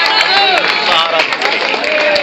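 An audience at a poetry gathering claps and cheers to welcome a poet, dense applause with crowd voices mixed in, loud and close throughout.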